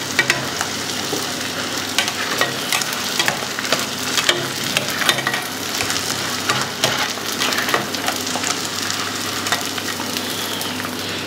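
Edible gum (gond) frying and puffing up in hot ghee or oil in a pan for dhaniya panjiri, giving a loud, dense crackling sizzle with sharp pops and stirring scrapes throughout. No one speaks.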